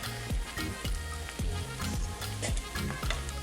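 Food cooks in a pan with a steady close sizzle, broken by repeated scraping stirs and light clatter, and no voices.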